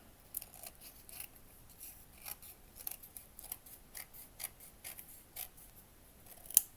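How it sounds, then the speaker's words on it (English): Small scissors snip through paper while pieces are cut out for a miniature cat cafe garden room box, a quick run of light, close, crisp clicks with a louder snap near the end and no talking. "cut this one out as well."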